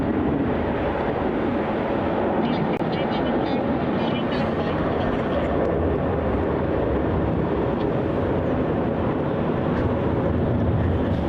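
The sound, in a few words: airliner taking off at Melbourne Airport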